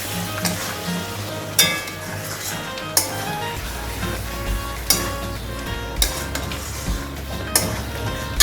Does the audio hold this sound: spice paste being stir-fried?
yes